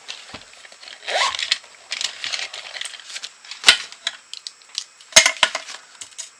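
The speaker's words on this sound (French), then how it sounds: "Alors mes ciseaux." Scissors snipping paper while making a surprise-opening gift box: a run of close, crisp cuts and rustles with a few sharp clicks, fairly loud and without talk.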